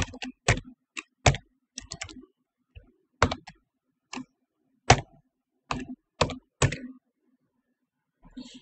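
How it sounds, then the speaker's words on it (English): Keys on a computer keyboard clack in short, irregular bursts, close and crisp, with quiet gaps between groups of strokes. "you need to manually type in TES5.exe"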